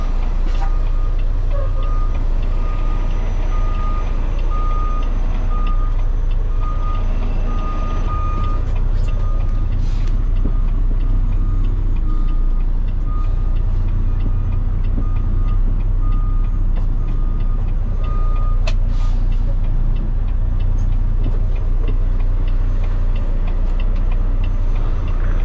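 Steady, evenly spaced reversing beeps from a tractor-trailer truck ring out over a loud, continuous diesel engine rumble, with a few sharp clanks along the way.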